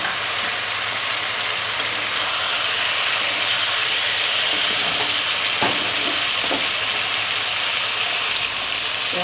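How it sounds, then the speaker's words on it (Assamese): Pieces of pre-fried fish go into a hot pan for a sour Assamese fish curry, setting off a loud, steady sizzle and frying hiss that runs the whole time, with a few soft stirring knocks near the middle and no talking. "এতিয়া মই ভাজি থোৱা মাছখিনি দি দিছোঁ।"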